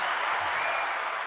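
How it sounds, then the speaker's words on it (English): Applause from a concert audience at a singer-songwriter's show, a short burst of steady, moderately loud clapping. "the crowd is going crazy"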